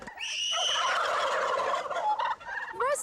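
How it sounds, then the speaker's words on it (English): A domestic turkey gobbles loudly and close by in a sustained, warbling call lasting most of the three seconds, followed by a couple of shorter gobbles at the end. "And 3-year-old Kyle Varner knows just how to get a turkey to gobble."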